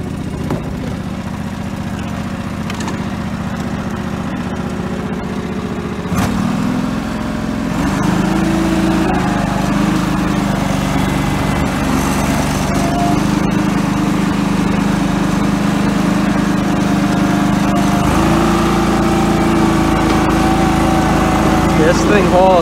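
A 2000 John Deere 445 lawn tractor with a low-hour engine and 26 inch rear tires runs loudly close by, its steady engine drone rising as it pulls away and drives on, with talk over parts of it.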